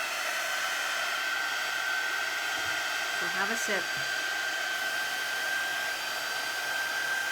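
A hair dryer blows steadily on a handmade paper bag journal for the whole span, a constant close whoosh with a brief shuffle partway through and a short spoken remark over it.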